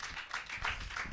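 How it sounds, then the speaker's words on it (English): A small podcast audience claps briefly, a scattered patter of hands that stays steady for about a second at low volume with no talk over it. "Y'all can clap for that."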